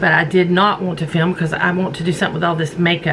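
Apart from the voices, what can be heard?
No everyday noises stand out.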